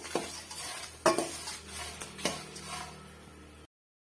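Tamarind and dried red chillies roasting dry in a pan, stirred with a utensil that gives a few sharp scraping clinks against the metal over a faint crackle, then stops abruptly.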